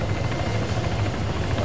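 Helicopter rotor thump and engine drone from an airlift in the military game Arma 3, steady and loud throughout the short stretch with no talk over it.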